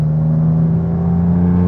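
A car picks up speed gently during a driving session, its engine giving a loud, steady humming drone with a smooth whir, close and alone.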